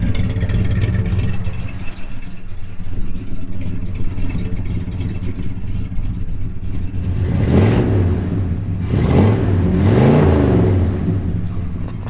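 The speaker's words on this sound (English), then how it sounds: "I love that sound. That exhaust is a mile long, but you can still hear that big block through that thing." Big block engine in a truck with a long exhaust idles with a steady low rumble, then revs hard in several swelling bursts near the end, loud and close with no talking.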